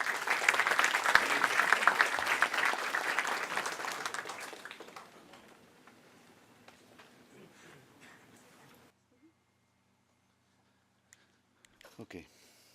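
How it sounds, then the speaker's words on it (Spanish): Dense audience applause for a speaker at a functional foods conference, loud at first, then fading out over several seconds into scattered claps and near silence. "Un fuerte aplauso, por favor,"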